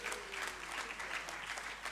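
Audience applause at a forum on women in government and media, steady, dense clapping from a crowd filling the whole moment at moderate level, with no voices over it.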